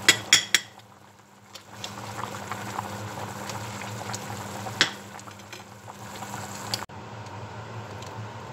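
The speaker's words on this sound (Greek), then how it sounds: "Το γλυκό μας άρχισε να βράζει" A pot of fruit preserve syrup boils quietly and steadily, bubbling softly. Metal clinks from a spoon against the pot break in at the start and again midway.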